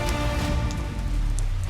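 Steady rain patters on a surface, a close, even wash of drops with a faint low rumble beneath and no voices.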